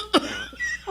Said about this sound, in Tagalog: May ubo lagi ka pa.